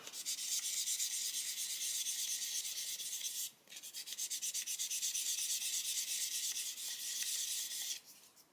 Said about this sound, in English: still some more sanding to do there